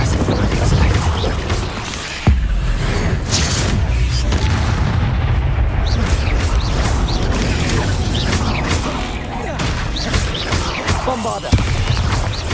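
Bombarda explosion spells in the Hogwarts Legacy video game: loud, dense booming blasts and rumbling debris over continuous battle noise, with sharp impacts near the start and end.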